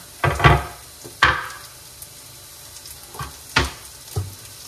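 Onion and garlic frying in a pan, a steady close sizzle broken by several louder bursts of stirring and scraping against the pan, with no voices.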